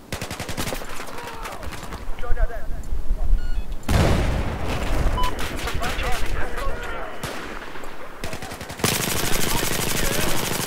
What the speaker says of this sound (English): Oh, I just got shot in the face.